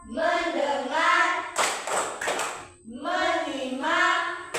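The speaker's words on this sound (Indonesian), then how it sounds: "Tepuk fokus." Group chanting by a primary-school class in Indonesia gives way to a quick run of crisp, loud clapping in unison, followed by more chanting from the whole class.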